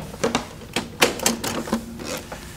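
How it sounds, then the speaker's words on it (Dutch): A Betamax video recorder ejects a tape, giving a series of mechanical clicks and clunks with a few whirring passes, close and fairly quiet, with no talk. "Compare ejecting a tape on the Betamax to the VHS."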